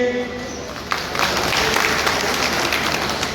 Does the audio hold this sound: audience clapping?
yes